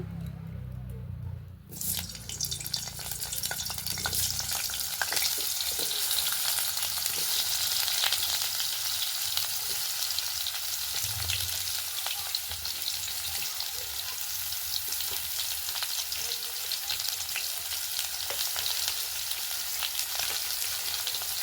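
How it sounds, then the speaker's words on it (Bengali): Flat beans and potatoes fry in hot mustard oil in a pan. A steady, loud, close sizzle runs without a break after a brief initial splash, with a faint voice in the background. "সরষের তেল দিয়ে এবার সিমগুলো আর আলুগুলো ভালো করে ভেজে নেব।"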